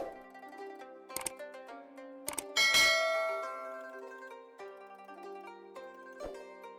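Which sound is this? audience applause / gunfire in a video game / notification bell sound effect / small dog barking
notification bell sound effect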